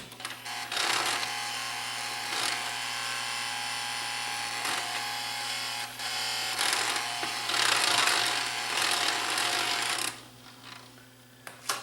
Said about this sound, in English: And we can hear a motor running. And the turntable spins freely.